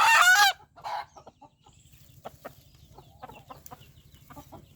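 Native chickens during a Gumboro vaccination let out a loud, close squawk, then scattered soft clucks and small movement noises follow over a low steady hum.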